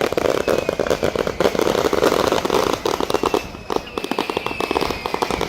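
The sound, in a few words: fireworks exploding over the sea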